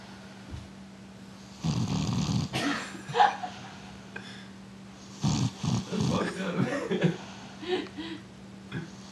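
A person snores in bursts of rough, throaty breaths, several irregular snores heard close and fairly faint, with a low steady hum underneath.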